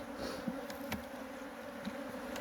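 Honey bees in an opened hive hum in a steady, soft drone, with a few louder individual bees buzzing close by over the continuous background buzz.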